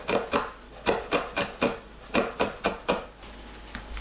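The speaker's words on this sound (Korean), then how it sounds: "홍고추와 파를 잘게 썰어주세요." A knife chops red chili and green onion finely on a board, about ten crisp, close taps in quick uneven bursts, then trailing off into quiet.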